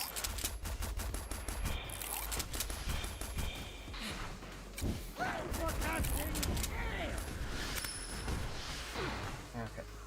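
Missiles and guns fire in the video game Steel Carnelian as a dense, continuous barrage of loud rapid bursts and blasts, with a voice talking over the gunfire.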